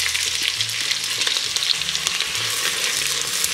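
Chopped onion frying in hot vegetable oil in a kazan, a loud dense sizzle with constant crackling, close up, accompanied by soft stirring scrapes and no talking.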